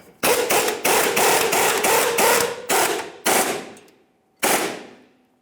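A bolt on the fuel level sensor strap of a 2000-2006 Chevrolet Tahoe is snugged up with a power tool: a run of loud, rapid buzzing bursts close by, then a short pause and one final burst.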